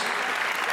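Dense audience applause at a Spanish dance school stage performance, a steady close wash of clapping filling the brief moment.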